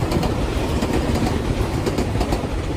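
A train on the Tobu line at Bushu-Nagase Station rushes past very close, about four cars long, its wheels clattering on the rails in a dense, continuous rumble with rhythmic clicks throughout.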